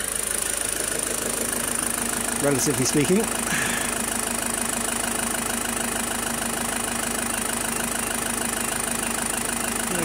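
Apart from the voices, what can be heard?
diesel engine idling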